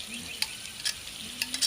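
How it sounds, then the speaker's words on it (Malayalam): Chicken pieces fry in butter in a hot pan with a steady close sizzle, broken by a few sharp scrapes and clinks of stirring. "ഓരോന്നായി വറുത്തെടുക്കാം"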